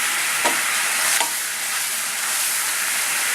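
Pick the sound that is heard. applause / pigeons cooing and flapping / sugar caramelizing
sugar caramelizing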